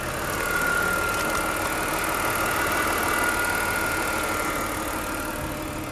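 A 1999 Chrysler Sebring with a 2.5 liter six-cylinder engine runs at idle, a steady, moderately faint hum and whir with a faint high whine, unchanging throughout.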